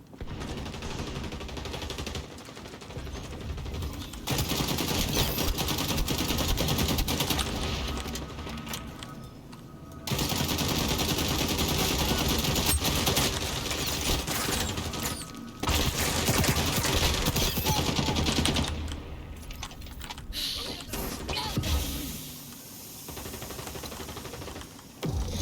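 Sustained AK rifle fire in the shooter XDefiant, long loud automatic bursts broken by short pauses, dense and close, with little talk over it.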